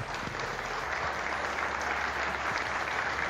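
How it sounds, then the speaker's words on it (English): Audience applause at a live bowl game special, a dense, steady wash of clapping from a crowd that holds evenly throughout without fading. "So having a big round of applause."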